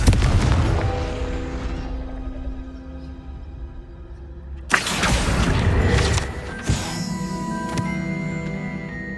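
A Confringo fire spell bursts in Hogwarts Legacy, a sudden loud blast landing midway over steady game ambience, followed by a second sharp crackling impact and a lingering, rumbling tail.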